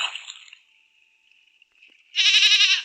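A goat bleats in the Rusty Lake: Paradise puzzle game, a loud wavering cry near the end following a faint thin tone and a quieter opening call.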